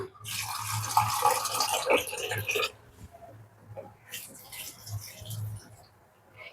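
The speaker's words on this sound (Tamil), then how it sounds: "அப்போ இதுக்கு போதுமான தண்ணி ஊற்றிக்கலாம்" Water pours into okra kuzhambu simmering in a pan in two rushing bursts, with a low hum and a voice talking between and under them.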